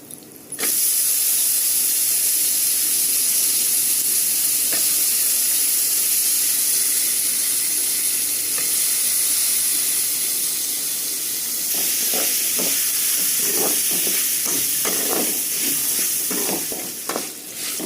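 Grated coconut roasts in a hot pan, giving a steady, loud sizzling hiss with a sudden start, and later a run of scraping, stirring clicks against the pan.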